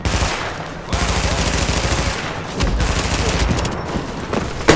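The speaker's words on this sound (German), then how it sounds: "Ich schieße ihm die ganze Zeit in den Kopf und der stirbt einfach nicht" Sustained automatic gunfire in Tom Clancy's The Division, Manhattan, dense rapid bursts crackling almost without pause, close and loud throughout.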